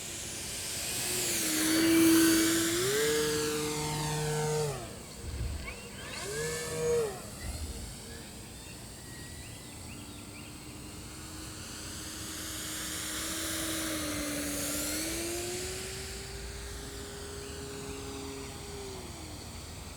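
An E-Flite Super Timber 1.7 m RC model airplane flies overhead, its electric motor whining and rising and falling in pitch as it passes, loud near the start and then steadier and more distant.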